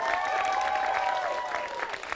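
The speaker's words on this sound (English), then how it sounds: "Let's give both bands another round of applause" A live studio audience at a Summit Sessions Live weekend special applauds both bands, a steady, fairly even round of clapping and crowd noise throughout.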